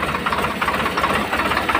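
A farm tractor idles after its rotavator has been detached, its engine left running with a steady, knocking chug that throbs evenly and close at moderate loudness, no voices.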